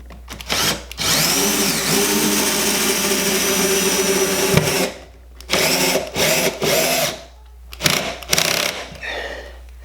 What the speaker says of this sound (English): I'm going to go ahead and put this center screw in